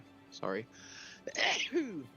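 A person sneezes once partway through a tabletop roleplaying game session, amid nearby conversation.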